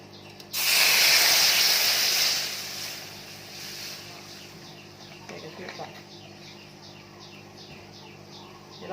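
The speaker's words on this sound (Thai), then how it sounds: "อันนี้เราก็ใส่กะทิก่อน" Coconut milk pours into a pot for Thai fish curry, making a loud, hissing splash for about two seconds that fades into a faint simmer, with soft bird chirps in the background.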